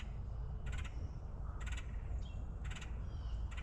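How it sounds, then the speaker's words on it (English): Crows in trees along a nature trail give four short, harsh caws spaced roughly a second apart over a low outdoor rumble, moderately distant and with no speech. "Hey, you hear the birdies in the trees?"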